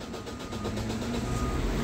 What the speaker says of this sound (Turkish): Arkadaşlar arabayı çalıştırıyorsunuz.